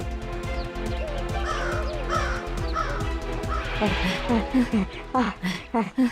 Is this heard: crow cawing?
yes